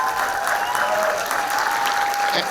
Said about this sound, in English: a big hand, standing ovation, if you can, for Nick Novicki, please